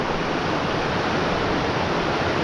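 Milk Creek, a mountain stream on the Pacific Crest Trail near Mount Jefferson, rushes with a steady, dense, broadband wash of flowing water, close and continuous with no voices.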